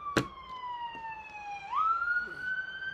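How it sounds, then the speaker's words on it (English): An ambulance siren sounds outside an open window, a steady wailing tone that dips and rises again as it passes at moderate distance, with a brief knock at the start. "Sorry, ambulance. Should have shut my window."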